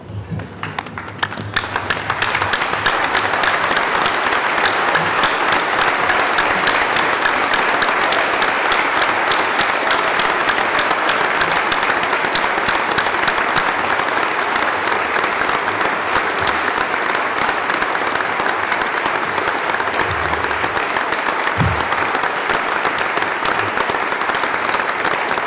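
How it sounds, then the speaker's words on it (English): Sustained audience applause at a graduation ceremony, a dense, loud, even roar of clapping from a large standing crowd that swells in within the first two seconds and holds steady to the end. "join in one more round of applause and congratulations"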